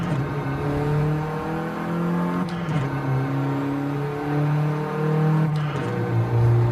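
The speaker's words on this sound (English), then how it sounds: "this car sounds actually really good" A car engine revs up and down repeatedly, a smooth rising and falling motor tone with brief pauses between pulls, close and loud.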